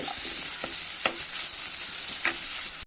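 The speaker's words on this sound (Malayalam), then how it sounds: "ചെറിയ ഉള്ളി ചെറിയ ഉള്ളി അതൊന്ന് മൂക്കട്ടെ" Small shallots frying in oil in a pan, a constant bright sizzle with a few soft stirring scrapes, close and steady until it cuts off abruptly.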